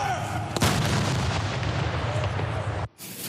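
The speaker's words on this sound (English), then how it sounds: "The ceremonies feature a cannon drill and foot drills performed by cadets wearing scarlet tunics." A single sharp cannon shot booms at a cadets' sunset ceremony drill at RCMP Depot, followed by a long rolling echo that decays before a cut.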